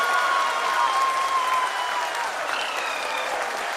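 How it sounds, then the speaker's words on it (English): Steady crowd applause fills a hall during the live broadcast of the Chandrayaan-3 lunar lander soft landing at ISRO, a dense, even wash of clapping held at a constant level, with a faint tone running beneath it. "People are applauding."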